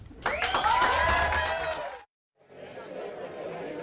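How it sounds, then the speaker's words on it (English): A crowd at an election night event in downtown Portland cheers with shouts and whoops for about two seconds, then after a brief silence a quieter crowd murmur continues. "Certainly a spirited crowd here in downtown Portland"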